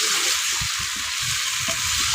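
Bottle gourd is stirred with spices in a hot pan for a tangra fish curry, giving a constant bright sizzle with soft thuds and scrapes from the stirring.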